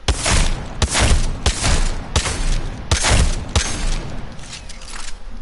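Rapid shotgun blasts from the double-pump technique in the video game Apex Legends, a close, loud series of about eight booming shots in uneven bursts with mechanical clatter between them.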